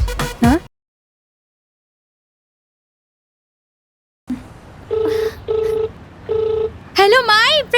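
A telephone keypad being dialed to call someone's mother: a brief voice at the start, then a long silence, followed by a series of evenly spaced electronic dial beeps and a warbling ring tone at the end.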